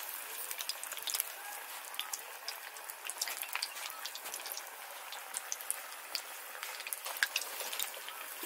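Pakoras frying in moderately hot oil, a steady soft crackle and bubbling with scattered fine pops throughout, fairly quiet and close, with no voices.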